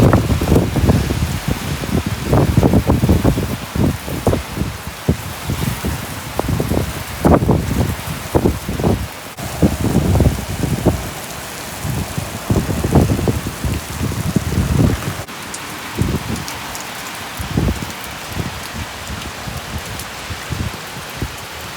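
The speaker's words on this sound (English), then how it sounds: "we're about to get into a second round of rain" Rain falls steadily, pattering and splashing on surfaces with gusty surges, a constant wash of noise with no voices.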